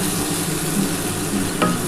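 Potato and pointed gourd curry being stirred and sautéed in a pan, a continuous close scraping and sizzling with a brief louder scrape near the end, no voices.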